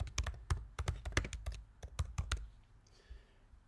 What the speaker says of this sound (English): So I'm going to just type in, carving tools.